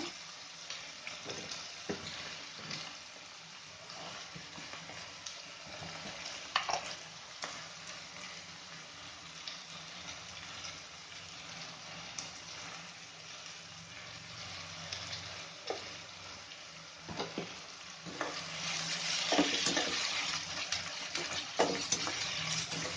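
Tomato frying in oil for vangibath gives a continuous soft sizzle with occasional stirring clinks, and the sizzle grows louder and brighter toward the end, heard close with no talking.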